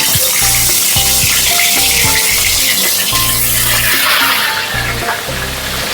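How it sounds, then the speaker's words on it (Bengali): Katla fish pieces frying in hot mustard oil in a wok, a loud dense sizzle running throughout with a low steady hum beneath it, easing slightly toward the end. "এবার আমি মাছগুলো ভেজে নেব।"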